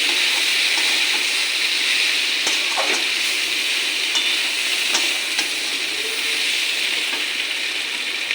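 Tomato being stirred into vegetables frying in a pan for a komli greens and dried fish dish: a steady, loud sizzle runs throughout, with scattered scraping clicks from the spoon and no voices.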